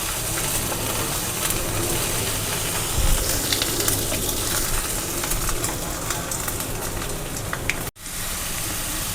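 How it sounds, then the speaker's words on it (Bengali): Egg frying lightly in a pan makes a steady, close hiss and sizzle that runs throughout, with a few small clicks and one brief dropout near the end. "এখন এটা হালকা করে একটুখানি ভেজে নেব"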